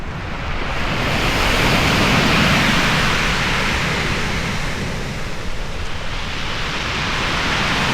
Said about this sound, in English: look at these waves this morning